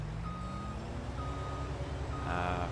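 A dump truck in a farming simulator game gives repeated reversing beeps, evenly spaced high tones over a constant low engine drone, with no talk.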